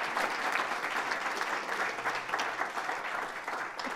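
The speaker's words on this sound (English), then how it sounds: "Round of applause." Steady crowd applause at a small-business pitch competition finale, many hands clapping evenly and continuously for a few seconds with no voices over it.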